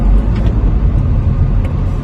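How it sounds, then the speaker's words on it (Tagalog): Road traffic rumbles past on a highway, a loud, steady low roar of cars and engines heard up close without a break. "Traffic, oh."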